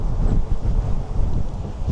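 Strong, frigid wind gusts across an open park on a sunny day, roaring and buffeting the microphone in a loud, continuous rumble with no voices.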